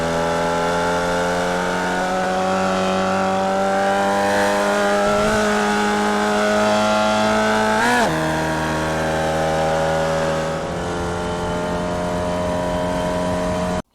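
Formula Vee race car in iRacing at Summit Point Raceway held at full throttle, a loud steady engine drone with stacked harmonics and a brief pitch wobble near the middle, alone without talk.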